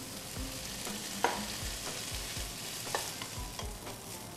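Beef frying with ginger and mushrooms is stirred in a pan: a soft background sizzle under repeated rhythmic scraping and clattering strokes of a utensil, close and fairly quiet, with no talking.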